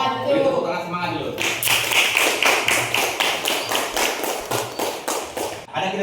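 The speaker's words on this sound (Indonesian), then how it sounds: "Beri tepuk tangan semangat dulu." Group clapping in a classroom, a room of students applauding in rhythmic, regular bursts for several seconds after brief chatter, then stopping.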